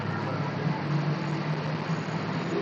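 A car's engine drones steadily from inside the cabin as it speeds up to about 70 in sixth gear on an empty road, a low, even rumble with someone talking faintly.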